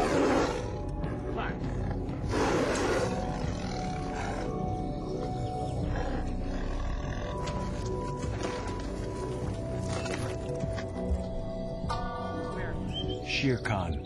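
Trained tiger roaring and growling as it grabs and holds onto a human dummy, deep rumbling roars with snarls and some clattering, and a voice speaking faintly in the background.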